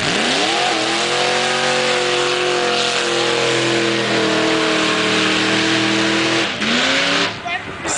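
A loud race car engine at a drag racing event in Fredericia in 2014, revving hard with a rising, sustained roar, a brief dip near the end and then climbing again.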